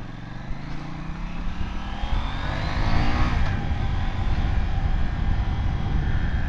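A 2018 KTM 790 Duke motorcycle's exhaust note on a muddy UK country lane, a steady close engine drone that swells as the bike accelerates, with no talk.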